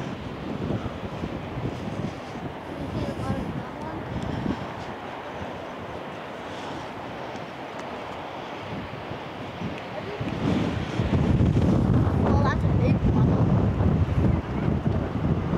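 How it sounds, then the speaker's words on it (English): Strong gusts buffet the microphone near boiling water at Yellowstone, a loud, rumbling roar that persists throughout and swells heavier in the final seconds, with no talk. "Oh my gosh, it's so windy. This shows how windy it is."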